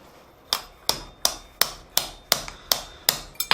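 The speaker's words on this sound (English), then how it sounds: "with this thin material, it allows you to kind of keep hammering on it long after it's cooled down" Thin steel is hammered into a mason jar candle holder at a blacksmith's forge, with about nine sharp, ringing metallic blows at a steady rhythm, close and clear, each one ringing out briefly before the next strike.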